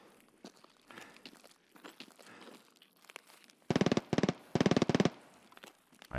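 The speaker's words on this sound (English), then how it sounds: "Kind of sounds like an unsuppressed Keter." Unsuppressed Keter gunfire in a shooting game inside a mall, two quick bursts of rapid automatic shots, loud and close after quieter footsteps and shuffling.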